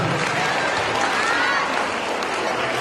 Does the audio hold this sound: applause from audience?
yes